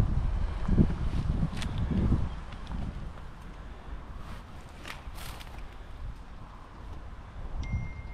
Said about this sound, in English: it's a wind test because it's windy